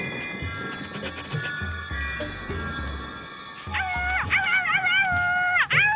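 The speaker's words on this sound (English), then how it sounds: "What's the matter with your dog?" Cartoon dog barking and howling: a run of short yips and barks, then a drawn-out wavering howl that rises and falls, loud and close, with no one talking.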